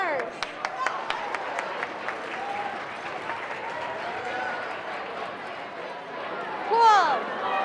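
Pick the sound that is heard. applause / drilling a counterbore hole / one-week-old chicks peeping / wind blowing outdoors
applause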